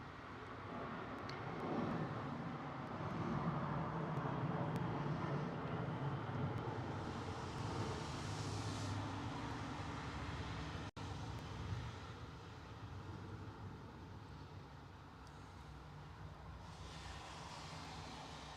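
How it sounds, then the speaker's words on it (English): A British Airways Airbus A320neo passes at London Heathrow with a broad engine roar that swells and holds before easing off, heard from some distance with wind-like rushing and no talk. "There it is, British Airways A320 Neo."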